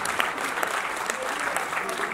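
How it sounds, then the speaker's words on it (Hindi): Award ceremony audience breaks into loud, continuous applause, many hands clapping together in a thick, even wash that fills the hall from start to finish. "तालियां, तालियां,"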